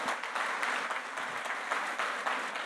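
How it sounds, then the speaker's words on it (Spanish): Audience applause at a church gathering in Mexico City, a steady dense patter of many hands clapping together, fairly distant and even throughout. "démosles un fuerte aplauso a todos estos tremendos invitados."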